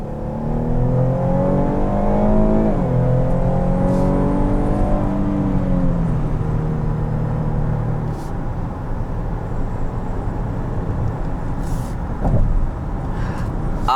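A 2021 GMC Acadia Denali's 3.6-liter V6 with a 9-speed automatic pulls hard from inside the cabin, its engine tone rising steadily and dropping with gear changes, loud and continuous without talk.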